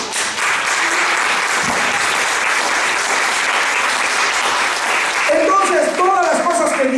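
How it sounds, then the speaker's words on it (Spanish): A church congregation claps in sustained, steady applause at a Spanish-language worship service, loud and continuous throughout, with a voice speaking briefly over the clapping near the end. "Denle un aplauso al Señor."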